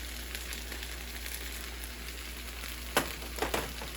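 Soy sauce and teriyaki marinade sizzle in a pan of Spam fried rice, a steady low frying hiss throughout with a couple of sharper crackling bursts near the end.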